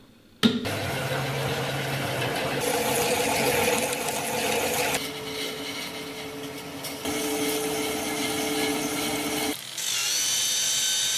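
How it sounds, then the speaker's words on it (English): An electric motor fitted to a homemade shredder runs steadily, making a loud continuous mechanical whir with a buzzing, sewing-machine-like tone that shifts pitch a few times. "right now we need to attach the motor to the shredder so it will turn around"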